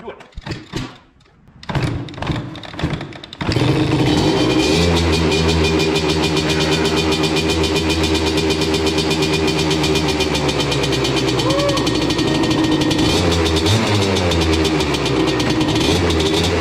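A three-wheeler ATV tried a few times before its engine catches, then runs as a loud, steady, close-up idle and rev with a rough mechanical buzz, with people talking briefly at the start.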